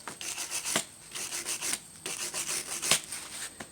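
Rust is scrubbed off old rear brake hardware and its threads on a 2004 Chevy Impala, heard as close, rhythmic rasping strokes in quick bursts, about eight passes, with no talking.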